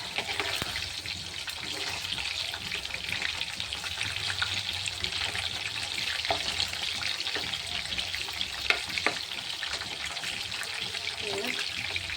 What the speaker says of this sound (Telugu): ఫ్రై మంచిగా రెడ్ కావాలి ఫ్రెండ్స్ గోల్డ్ మంచిగా ఫ్రై చేయాలి